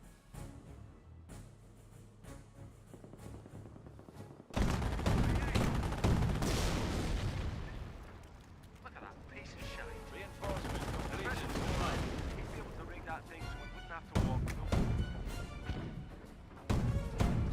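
Company of Heroes 1 battle with rifle and machine-gun fire and mortar shots, rattling bursts and thumping impacts that surge and fade over many seconds, with a commentator talking throughout.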